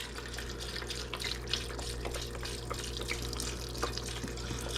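Vegetable broth pours steadily into a soup pot of root vegetables, a soft continuous liquid splashing close by under low kitchen hum, with no talking.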